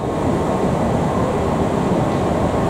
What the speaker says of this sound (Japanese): 到着した準急電車はこの高槻市駅で特急の待ち合わせを行います。